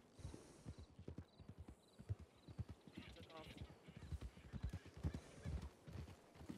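A horse's hooves clip-clop steadily in a western ranch roleplay video game, a close, continuous rhythmic trot with a brief whinny, under people talking.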